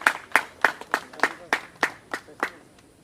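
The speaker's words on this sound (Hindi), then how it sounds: "जोरदार तालियां" At an Indian Army memorial ceremony in Tuting, about nine slow, evenly spaced claps sound in a steady beat, soft and fairly close, fading out after two and a half seconds.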